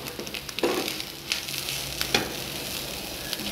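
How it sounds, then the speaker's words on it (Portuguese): Chopped tomato with black pepper and cumin seasoning frying in a pan, with a constant crackling sizzle broken by a few scraping stirs of a spoon, close and fairly loud, and no talking. "Vou mexendo aqui até fritar um pouquinho"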